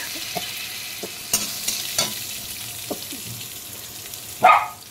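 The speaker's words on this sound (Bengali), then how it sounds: "হালকা করে ভেজে নেব" Potatoes frying lightly in oil with whole cumin, bay leaf and a dried red chilli, heard as a steady soft sizzle with a few scattered stirring scrapes and a brighter burst near the end, no talking.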